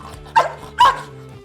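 Two sharp barks from a police K9 dog about half a second apart, loud and close against a low steady hum, given on command during a law enforcement demonstration.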